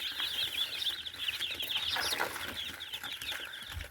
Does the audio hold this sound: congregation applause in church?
no